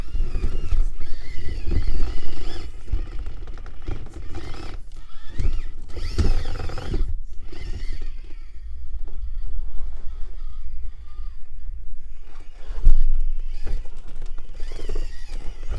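An FMS FCX18 K10 RC crawler grinds through multi-point turns, small servo and gear whines stopping and starting in short bursts with scrabbling tyre noise, close and fairly loud, no talking.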